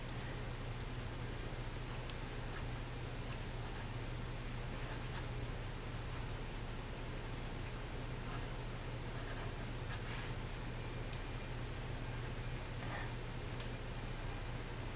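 A pencil or pen scratches continuously across paper while drawing finger lines and fingernails, a soft steady scraping texture with faint ticks, close and quiet with no talking.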